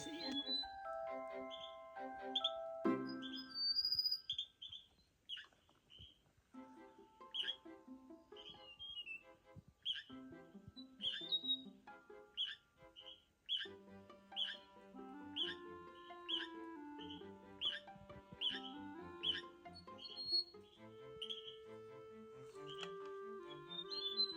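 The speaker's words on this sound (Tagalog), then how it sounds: "Ganda ng ibon." Faint, high bird calls chirp repeatedly in quick tuneful notes on Mt. Tapulao, with soft background sounds underneath.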